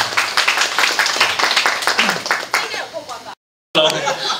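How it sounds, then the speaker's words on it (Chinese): An audience at a lively stage event claps in a rapid, steady rhythm, close and loud, mixed with cheering voices and chuckles, cutting to brief silence near the end before noisy crowd sound resumes. "可以来掌声"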